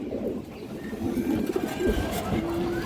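Pigeons in a farm loft coo in low, rolling murmurs at close range, while faint birdsong carries in the background.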